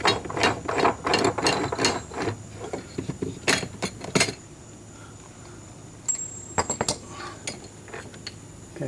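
A ratchet wrench removes a nut on a 1995 Sea-Doo XP, with close, loud clusters of rapid clicking strokes, a quiet pause in the middle, then a few more ratcheting clicks.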